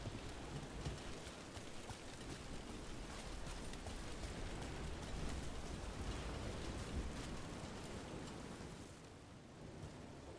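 Steady rain in the video game Dragon Age: The Veilguard: dense, continuous hiss of rainfall with a low rumbling undertone, unbroken and even throughout with no voices.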